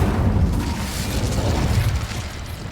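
Incendio fire spell cast in Hogwarts Legacy, a loud sustained roaring whoosh of flame with deep rumbling booms that hold steady throughout.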